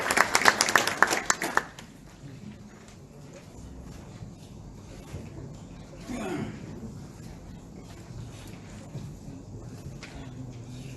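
Audience applause at an investment forum in Nairobi, a burst of clapping filling the first second and a half before fading into quiet room murmur.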